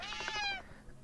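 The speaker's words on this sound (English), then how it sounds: "The cat! Right here." A single short cartoonish cat meow in the puzzle video game Slayaway Camp, rising then falling in pitch, clear and fairly close, followed by quiet.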